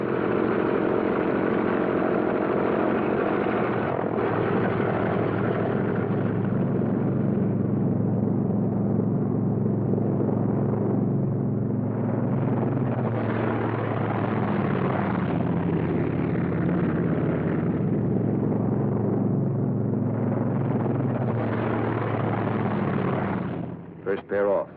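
P-47 Thunderbolt fighter aircraft taxiing out in a pair, a steady heavy piston-engine rumble and drone holding throughout at close range, with a voice talking over it.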